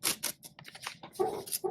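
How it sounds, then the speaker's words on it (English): Scissors make several quick, crisp snips through notebook paper close to the listener, in short irregular bursts. "Then cut it to where your tabs are, cut it to the margin,"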